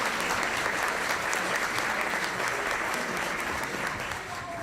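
Sustained applause from a ceremony audience right after the Pledge of Allegiance at a judicial investiture, with an honor guard present; dense, steady clapping throughout that tapers slightly at the end.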